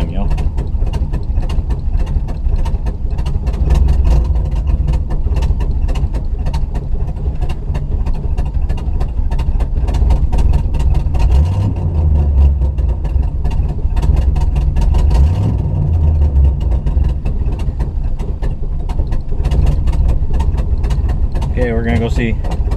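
A 1953 Studebaker engine idles close by, giving a continuous, steady low rumble with a rapid mechanical ticking through it. A voice can be heard over it now and then.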